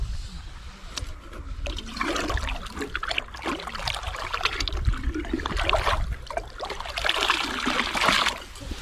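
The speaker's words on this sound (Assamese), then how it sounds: "সৰু নদী এইটো পানীটো চাওক কি চাফা পানীটো শব্দ শুনক" A small, clear mountain stream in Ladakh flows steadily nearby, a continuous rushing and gurgling of water over stones with no voices.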